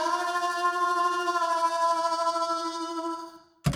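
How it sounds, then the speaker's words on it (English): An ambient, saturated sustained sound treated with phaser and tremolo pedals, with sweeping, shimmering harmonics that fade out before a brief sharp burst at the end. "that's because I'm using a phaser over here and a tremolo pedal."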